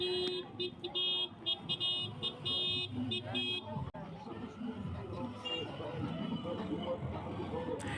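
Car horns toot repeatedly on a busy, lantern-lit Cairo street near Sayeda Zeinab, short beeps giving way to a longer blare amid crowd hubbub and traffic, with someone talking over it.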